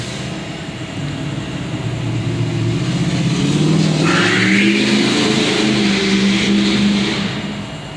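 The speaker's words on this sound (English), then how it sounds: "Goddamn cars." Road traffic rolling past close by, a steady loud rumble and hiss that swells toward the middle and then eases off, with no voices over it.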